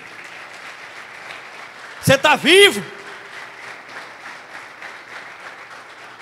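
Congregation at a church service breaks into a brief, loud burst of applause and cheering lasting under a second, framed by a preacher talking before and after.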